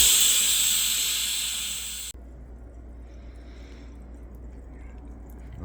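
A Philips GoZero ADD4901 sparkling water maker carbonating water gives a loud, steady gas hiss for about two seconds that cuts off abruptly, followed by near silence with faint fizzing.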